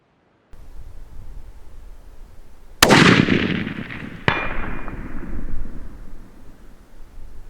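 A 6.5 PRC rifle shot hits a steel target: one sharp, loud crack with a ringing tail, then a second fainter metallic clang about a second later, against steady outdoor background noise.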